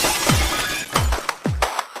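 Glass shatters under hammer blows in a song, three or four loud crashing impacts in a steady rhythm over a dense, noisy musical backdrop.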